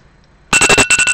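A kitchen timer beeps loud and close after a short quiet stretch, sounding in quick bursts with a brief gap partway through, at the end of a four-minute countdown while resin cures in a first attempt.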